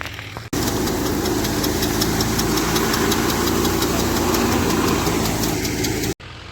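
A farm tractor engine runs steadily at close range, a dense continuous rumble with fast rhythmic knocking, starting and stopping abruptly.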